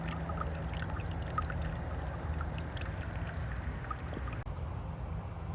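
A gentle, faint trickle of water runs steadily into an outdoor medaka fish pond, a soft continuous flow with small splashes.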